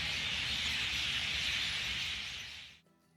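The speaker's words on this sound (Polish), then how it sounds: "A to, co słyszycie, to tysiące śpiewających ptaków, które nazywają się Majna." Thousands of myna birds sing together at Samarkand's Registan, a dense, continuous wall of chirping and chattering that stays loud and steady, then cuts off abruptly near the end.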